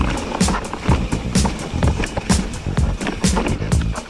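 Mountain bike rolling over a rough trail line, tires rumbling and rattling over roots and rocks in an uneven rhythm, close and fairly loud throughout with no talk.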